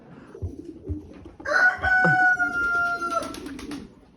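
Female pigeons of an Indian breed in a coop, giving a loud, drawn-out tonal call that rises out of quiet background shuffling and holds for about two seconds before fading, with soft low coos before and after.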